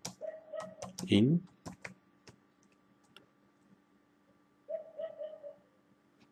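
Keys tapped on a computer keyboard while a post title is entered on a web page, with quick clicks scattered under a man's speech and short pauses between bursts.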